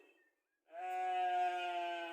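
A single sheep bleats on an Austrian village hobby farm in Vorarlberg, a sustained wavering call, close and clear after a brief near-silent moment.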